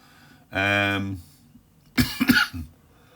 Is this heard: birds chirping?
no